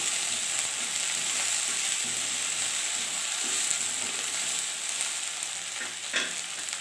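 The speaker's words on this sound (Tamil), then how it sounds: "நல்லா வெண்டைக்காயை ஃப்ரை பண்ணி எடுத்து" Okra sizzling in oil in a pan, a continuous close hiss of frying with light stirring scrapes and a clink near the end, no voices.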